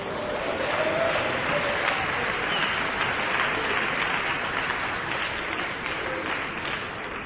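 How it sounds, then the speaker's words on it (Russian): Sustained applause from a church congregation giving praise to God, a dense, steady wash of many hands clapping at fairly even loudness throughout, tapering slightly toward the end with no talk over it. "Дайте аплодисменты Богу."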